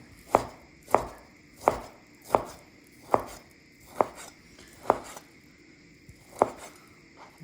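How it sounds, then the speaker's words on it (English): A knife slices through barbecue pork on a cutting board, giving nine sharp, evenly spaced chops about a second apart, close and crisp, with no talking. "Next, I'm gonna do my barbecue pork. This one is the same. Slice it all up."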